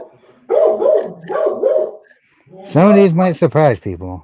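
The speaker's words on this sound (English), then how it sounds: "Sorry about the dog." A former police dog barks in short bursts near the microphone, a run of several sharp barks followed by a person talking.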